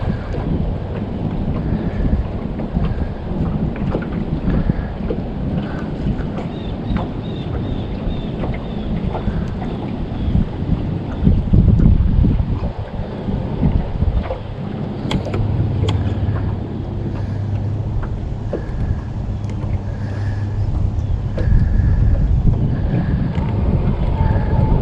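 Steady wind gusting and rumbling across a microphone on an open fishing boat out crappie fishing, a constant low roar with a few louder buffets, no talking.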